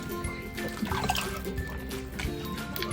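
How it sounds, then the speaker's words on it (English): Liquid is poured into a pot of Nigerian ogbono soup, making a continuous splashing, gurgling pour with some dripping, close and steady throughout. "I'm going to be adding more liquid."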